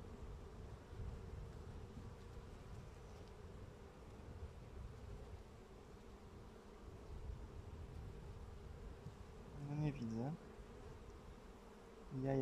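Low, continuous hum of a crowd of bees up close, with a short pitched whine rising briefly near the end.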